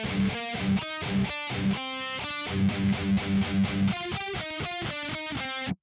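Heavily distorted electric guitar playing a riff, with fast palm-muted chugs broken by ringing chord stabs, loud and steady, ending abruptly.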